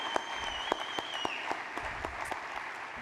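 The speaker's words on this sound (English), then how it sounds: "Let's give our video production team a round of applause" An audience at a city State of the City address claps together in steady, sustained applause that sounds moderately distant, with a faint tone running underneath.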